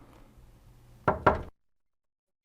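A door gets two quick, sharp knocks up close, then sudden silence.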